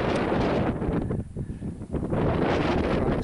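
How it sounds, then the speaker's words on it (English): Easterly wind on the Cheviot Hills near Langley Crags, buffeting the microphone in loud, rumbling gusts that ease slightly midway and then surge again. "The wind's coming from the east."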